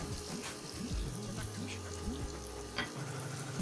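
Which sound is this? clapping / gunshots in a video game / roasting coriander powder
roasting coriander powder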